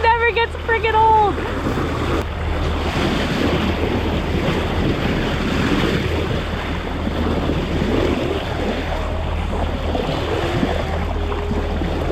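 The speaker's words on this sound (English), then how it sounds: "I hope you can hear me over the sound of the waves here." Ocean waves wash steadily around a sailboat anchored off La Cruz, a broad, continuous rushing roar with wind buffeting the microphone, and a brief voice at the very start.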